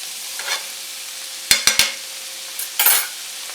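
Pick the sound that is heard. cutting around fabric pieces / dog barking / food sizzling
food sizzling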